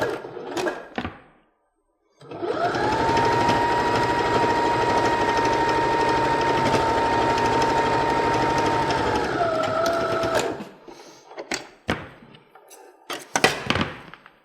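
A domestic sewing machine stitches quilt binding in one continuous, steady whirring run of about eight seconds, close up, with brief handling clicks and taps before and after.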